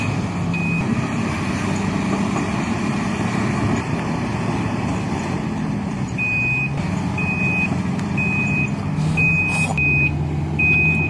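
A Komatsu D475 bulldozer at a mining site pushes wet, sticky mud, its heavy engine rumbling steadily under a repeated high reversing beep that sounds in regular bursts.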